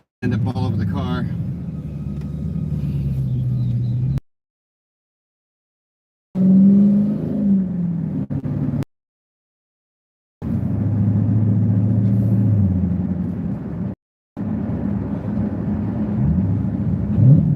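A Dodge Hellcat SRT rumbles deep and steady while driving around town, loud and close, in several segments separated by abrupt silent gaps, with faint talk at times.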